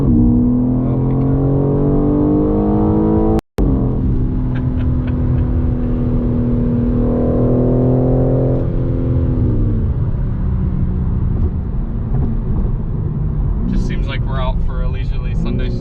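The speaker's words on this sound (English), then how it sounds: "Nice smooth inline six. What do you expect? But even just kind of leaning on it, I'm like half throttle right now." 2022 BMW M4 Competition xDrive with an inline six pulling at about half throttle: a steady, smooth engine drone rising under continuous talk from people in the car, with one brief dropout partway through.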